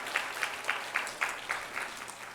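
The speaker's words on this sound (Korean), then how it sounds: "우리 나린이에게 박수 한번 보내주시면 고맙겠습니다." A church congregation at a Sunday worship service claps for a child who sang, a rhythmic, unison burst of applause with about nine evenly spaced beats, fairly close and steady.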